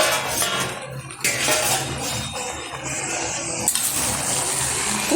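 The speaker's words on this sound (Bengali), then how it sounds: "20 মিনিট বাদে ঢাকনাটা তুলে দিচ্ছি।" A metal lid is lifted off a cooking pot of Bengali muri ghonto after simmering on low heat, with clinks and scrapes of metal, then pot and utensil rattles.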